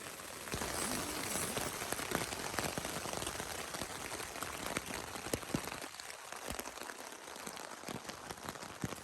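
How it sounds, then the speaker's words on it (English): Light rain patters on a tent at a wild camp by Codale Tarn, a soft, steady spread of close drops, faint and unbroken, with no voices. "As you can hear, there's just been a little bit of rain."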